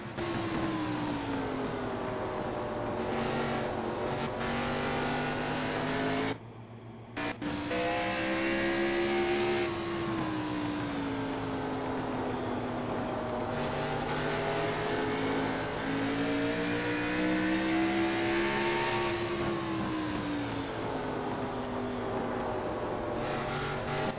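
Race cars from a racing video game, lapping the Thompson track through turns one and two. A continuous loud engine whine swells and dips in pitch as the cars corner, with a brief drop-out partway through.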